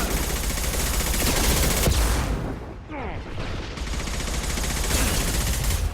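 Mass Effect 2 firefight with dense, loud shotgun blasts and rapid gunfire crowding together, a brief lull near the middle before the shooting resumes at full intensity.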